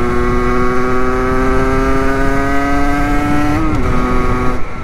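A Rieju MRT Pro motorcycle revs and accelerates up close, its engine note climbing steadily in a loud, continuous buzz before dipping briefly and picking up again.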